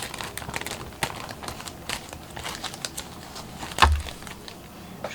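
Scissors and hands open a parcel holding a plant order, giving faint close crinkling and rustling of packaging with scattered small snips and clicks. It is quiet and steady, with one sharper crackle near the end and no voices.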